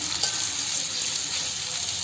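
Ginger stirred while frying in oil until brown, a dense close sizzle with faint stirring scrapes over a short stretch, no talking.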